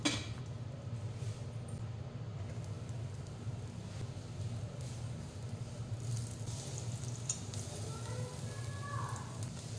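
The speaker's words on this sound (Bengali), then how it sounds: "ওই তেলেতেই এবার আমি কেটে রাখা বেগুনগুলি ভাজতে দিয়ে দেব।" Cut eggplant pieces fry in hot oil left over from frying potatoes, giving a steady low sizzle with occasional light clinks of a utensil against the pan.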